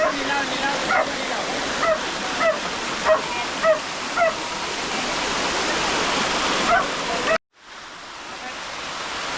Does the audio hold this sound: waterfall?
yes